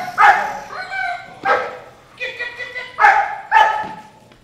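A black German Shepherd trained for protection barks repeatedly at close range, about five loud, sharp barks spaced irregularly across a few seconds.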